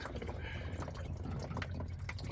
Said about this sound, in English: let the water come out